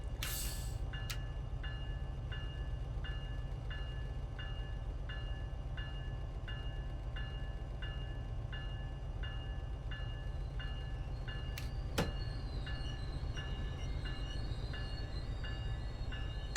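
A locomotive train rumbles steadily with a low, quiet hum as it pulls into a station in the video game Train Sim World 4, rhythmic clicks repeating evenly and a sharp metallic clank near the end, heard from inside the MBTA F40PH-3C cab.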